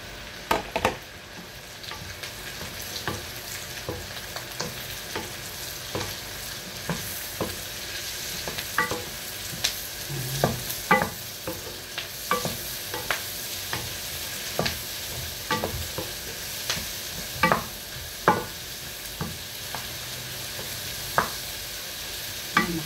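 Champignon mushrooms fry in a pan with a soft, steady sizzle, while a utensil stirs and scrapes in repeated close clacks throughout.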